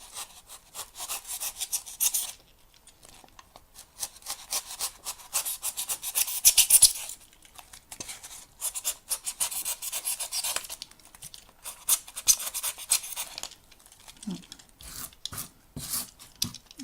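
A knife trims and scrapes a foam rock spire terrain piece in repeated rough rasping strokes, close and fairly loud, with short pauses between passes.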